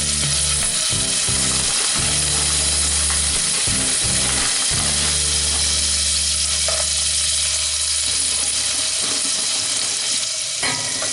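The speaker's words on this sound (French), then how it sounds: "on va mettre les oignons qu'on va faire revenir, voilà, là-dedans" Onions frying in butter and olive oil in a saucepan make a loud, continuous sizzle that runs for the whole clip, with rattling, clicking mechanical noises layered over it.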